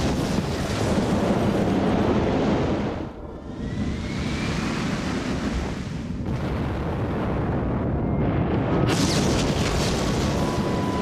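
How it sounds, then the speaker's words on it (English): Supernova explosion and blast wave in an animated space series: a loud, sustained rumbling roar with whooshing surges, a brief dip partway, then a renewed rushing blast. "the supernova exploded, destroying everything for millions of miles around with the force of its blast wave"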